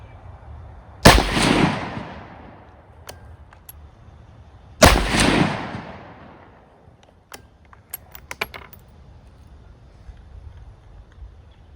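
A bolt-action .223 rifle fires two loud, sharp shots a few seconds apart. Each report trails off in a short echo, and faint metallic clicks follow, with no voices.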